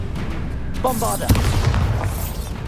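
A Bombarda spell explodes in the Hogwarts Legacy game, one booming blast arriving about midway, preceded by a brief whooshing cast and followed by a rumbling tail over a steady layer of game ambience.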